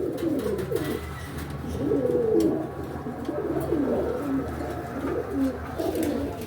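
Lotan pigeons, a pair offered for sale, coo repeatedly in soft rolling phrases, close by over a low background hum, with no voices.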